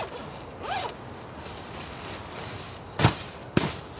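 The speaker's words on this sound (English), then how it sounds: "We've got our two big green sleeping bags that zip together" Two big green sleeping bags being zipped together while winter camping in a blizzard, a long rasping zipper pull near the start followed by a couple of sharp, quick zip tugs, close over steady background noise.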